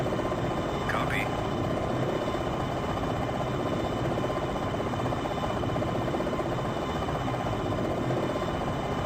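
Apache Longbow attack helicopter in the Jane's Longbow flight simulator game, a steady droning rotor and engine hum filling the whole stretch at constant level, with faint radio-style voices in the background.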